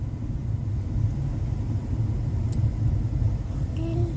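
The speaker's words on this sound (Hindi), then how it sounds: "सुबह का टाइम है तभी ट्रैफिक अच्छी खासी है" Steady low rumble of morning street traffic with cars and motor vehicles passing, continuous and moderately loud, with a faint horn-like tone near the end.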